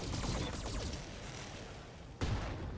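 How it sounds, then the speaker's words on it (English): Ammunition explosion in the BattleTech video game, a rumbling burst of crackling detonations followed by a sharp blast near the end, fairly quiet overall. "Ammunition explosion."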